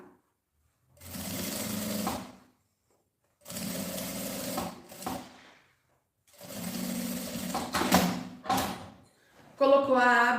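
A sewing machine runs a seam on a backpack in three separate bursts of whirring stitching, each lasting about two seconds, with short silent gaps between them and a few thumps and handling sounds toward the end.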